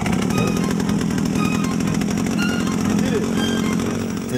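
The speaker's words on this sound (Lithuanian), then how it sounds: "Čia labai šaunu, kad turėjom motorinį pjūklą." A chainsaw cutting trees during a Siberian expedition, its motor running loud and continuous with a steady buzzing whine throughout.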